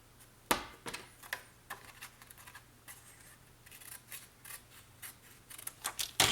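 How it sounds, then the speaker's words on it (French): Scissors snip through a narrow paper strip for a scrapbook pop-up explosion box, giving a few quiet, close, crisp cuts spread over several seconds. "Je vais en couper une autre, comme ça."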